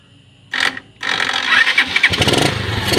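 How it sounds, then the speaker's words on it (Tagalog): A motorcycle starts on its push starter: a faint hum, then a brief whirring crank, a short pause, and a second crank that catches into a loud, rattling idle running close by. "Ayan, nagana na po ang ating push starter. Ang ating motor."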